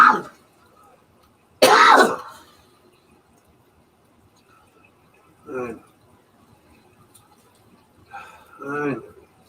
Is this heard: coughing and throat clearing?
yes